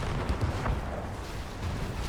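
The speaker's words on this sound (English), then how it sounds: "That nuke cannon." Nuke cannon fire in the real-time strategy game C&C Generals Evolution, heard as a steady, muffled artillery rumble with a few dull booms in the background, fairly faint and without speech.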